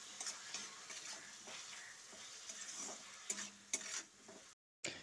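Tomatoes salted and fried in a pan, stirred with a utensil, giving a soft continuous sizzle broken by scraping strokes and light clinks of metal against the pan, with no voices.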